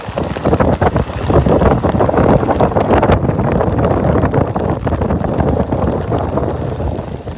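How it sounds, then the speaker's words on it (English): Strong, gusty wind buffets the microphone on Vanderbilt Beach in cold rain, a loud continuous roar with surging gusts throughout and no voices. "that wind is much stronger than yesterday when I get out here on the beach"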